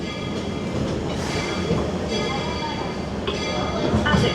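Walt Disney World Railroad train rolls into Main Street Station, a continuous rumbling wheel-and-car drone with faint rail squeals, heard close from on board with a voice speaking over it.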